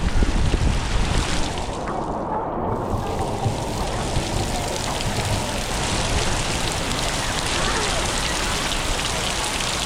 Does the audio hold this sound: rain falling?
yes